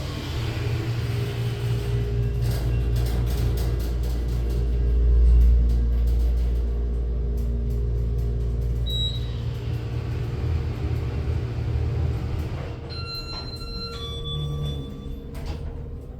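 Ride in an Otis HydroFit hydraulic elevator at a Sarasota, Florida shopping center: a steady low motor rumble and hum throughout, swelling briefly mid-ride, then a few chime-like tones near the end as the car arrives. No talk.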